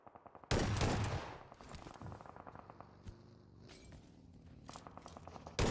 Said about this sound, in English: The shotgun is still there. Sprays it into the dirt behind Nico.